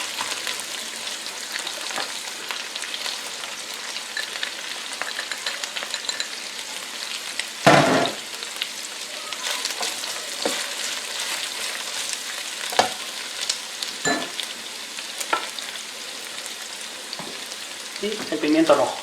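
Red and green peppers frying alongside browning sausages in a pan for arroz chaufa, a continuous close sizzle punctuated by occasional clacks of a spatula stirring.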